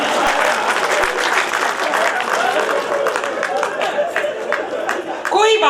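Loud, sustained audience applause at a Hindi kavi sammelan poetry gathering for Holi Milan, dense clapping with crowd murmur throughout, ending with a voice starting to speak.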